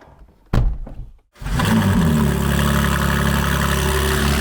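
Novitec-tuned McLaren Artura with a twin-turbo V6 and race exhaust system: a couple of sharp thumps, then the engine fires up into a loud, steady, raspy idle that holds close and strong.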